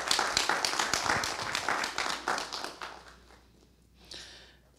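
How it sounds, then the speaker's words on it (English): A short burst of audience clapping at a mental health community forum, dense and fairly close, tapering off after a few seconds before a brief quieter patch of clapping returns at the end. "Give her a round of applause,"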